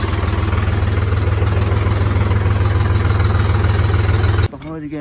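Swaraj 735 FE tractor engine running at a steady idle, a loud continuous low throb with a regular pulse that cuts off abruptly near the end, followed by a brief quieter noise.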